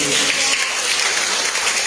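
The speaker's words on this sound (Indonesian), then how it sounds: "Mari kita berikan tepuk tangan buat Tuhan" Dense applause from a church congregation at a Sunday worship service, steady and full throughout, with a voice faintly audible beneath the clapping.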